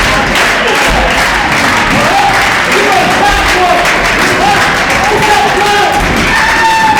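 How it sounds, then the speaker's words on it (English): A packed crowd at an independent pro wrestling show cheers, claps and roars continuously, a dense wall of fan noise with commentators talking over it throughout. "Crowd really getting behind DJ Hyde and Gemini. Crowd getting fired up here."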